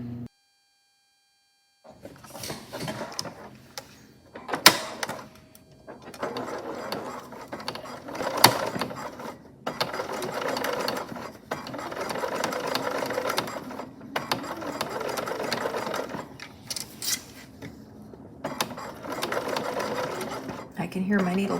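A domestic sewing machine topstitches a summer dress from the underarm, its needle running in steady bursts with short pauses and a few louder clicks, close and fairly loud, with a little talk in between.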